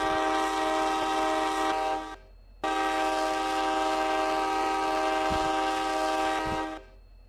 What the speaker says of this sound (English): let's hear for this train horn test in the rear